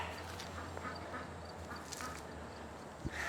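Ducks quack faintly over a steady background hiss, with a few scattered calls and no one talking.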